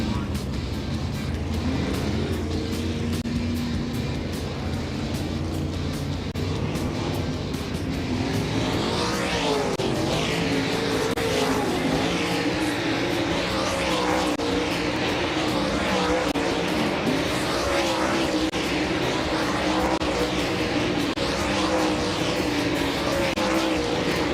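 Dirt late model race cars on hot laps at Volusia Speedway Park roar around the track as a steady loud pack, with engines surging and cars passing in overlapping waves, fairly near and continuous.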